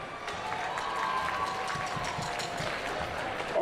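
Applause from a basketball crowd for the school pit band, steady dense clapping that fills the gym, with a faint hint of voices underneath.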